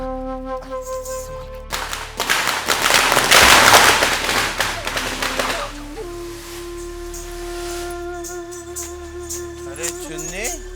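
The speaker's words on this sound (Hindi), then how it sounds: "सामने वाली छत पर कोई पटाखे जला रहा है।" Firecrackers set off on a nearby rooftop crackle in a dense burst of sharp pops that peaks mid-clip and then fades, with a steady background tone and voices talking.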